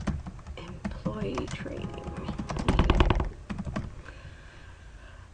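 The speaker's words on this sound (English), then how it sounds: "I'm going to hit the Enter key and type subject" Typing on a computer keyboard while writing a business memo in Microsoft Word: a steady run of quick, close key clicks that briefly grows denser and louder, with a person talking over it throughout.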